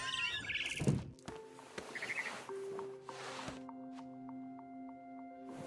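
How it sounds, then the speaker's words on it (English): A barn swallow chirps in the video game What Remains of Edith Finch, with scattered short high calls over soft thumps, rustling and a low tonal game ambience. "Then I heard chirping outside my window. It was a barn swallow going back to her nest."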